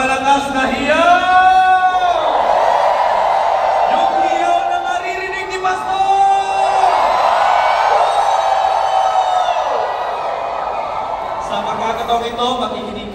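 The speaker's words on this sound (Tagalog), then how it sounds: "Isang malakas na hiyaw." Loud, sustained shouting and cheering from a big crowd at a Philippine political proclamation rally, with overlapping voices swelling and fading under a dense, close roar.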